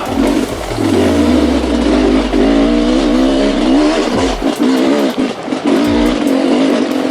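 Sherco 300 SE two-stroke dirt bike with a new power valve system, engine loud and close while riding, revving and dropping in pitch with a sustained drone and gear changes, no talking.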